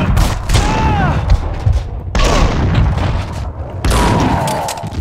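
Gunfire in the video game Max Payne 2, loud continuous volleys of shots and booming impacts with ringing echoes, filling the whole stretch with barely a pause.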